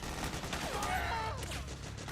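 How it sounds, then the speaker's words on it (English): Gunfire in the Metal Gear Solid 4 video game, a dense continuous burst of shots rattling steadily throughout at moderate loudness, with faint voice sounds mixed in. "Why are you guys still shooting a dead body?"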